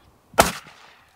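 A single sharp hunting rifle gunshot at a wild boar, fired from far off in woodland, loud and abrupt, followed by a brief fading tail in an otherwise quiet setting.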